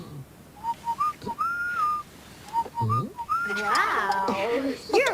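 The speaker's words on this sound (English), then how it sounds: "That wasn't me whistling." A cheerful tune whistled in clear, bright phrases on a children's TV show episode about a fishing trip, then joined by overlapping voices and sung tones toward the end.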